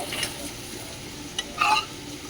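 Boiled lentils being stirred in a pot with ginger paste and spices, a soft scraping and stirring under a low background hiss, with a brief clatter near the end.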